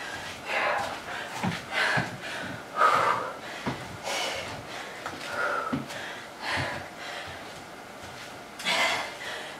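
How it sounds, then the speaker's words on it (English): Fast, heavy breathing from a person walking it out after the last round of a CrossFit workout, ragged sniffs and gasping breaths repeating close up with no talk. "My breathing is fast. Heart's beating fast."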